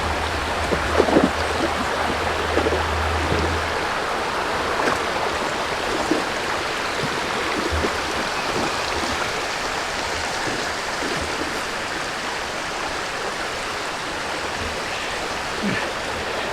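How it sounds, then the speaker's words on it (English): A small waterfall on a stream in Jefferson National Forest rushes continuously, a steady broadband hiss of falling water heard from on top of the falls, with a few faint low thumps early on. "there's the falls. We're on top of the falls."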